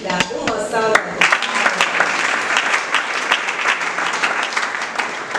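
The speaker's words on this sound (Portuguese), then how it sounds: "Uma salva de palmas." A church congregation breaks into applause, with loud, dense clapping that swells after a brief spoken phrase and continues steadily for several seconds, close and full in the room.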